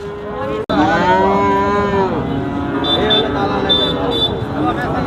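Heifer cattle moo loudly and close at a livestock market in Sirajganj, one long low call after a short sharp knock, with crowd noise and distant high calls behind.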